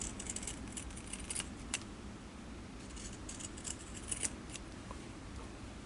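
Pinking shears trim curved fabric edges for a glasses case, giving a series of quiet, crisp snipping clicks in an irregular rhythm close by in a quiet room.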